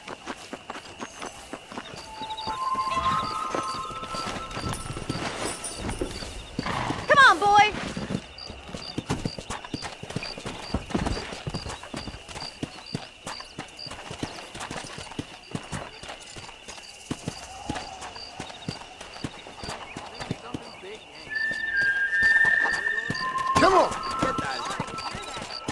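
Horses gallop in Red Dead Redemption, with a steady clip-clop of hooves running the whole way through under game ambience, a brief neigh partway in, and people talking over it.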